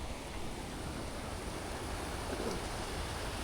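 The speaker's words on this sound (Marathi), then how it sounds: "त्याचा फ्लो भारी आहे एक नंबर. जोरात पाणी येलंय." Strong flow of water in a stream near a waterfall during the Konkan monsoon, a continuous broad rushing roar, steady and unbroken, with no voices over it.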